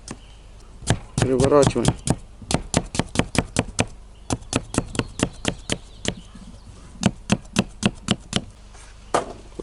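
Sharp knife chopping through beef liver on a board for shashlik, a rapid run of crisp regular knocks with a brief dense flurry early on, close and loud; a voice speaks briefly.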